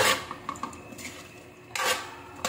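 Chicken adobo with string beans being stirred in a pan, metal utensil scraping and clanking against the cookware in bursts, close and fairly loud.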